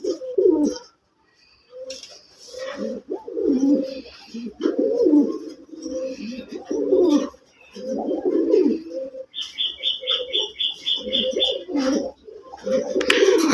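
Red Rajgolla pigeons coo in repeated low, throaty bursts, close and fairly loud, with short pauses between phrases and a faint high chirp partway through.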